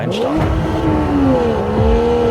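A 2017 Porsche 911 GTS making a launch-control racing start, its engine revving hard and rising through the gears with a shift near the middle, loud and close without any talk.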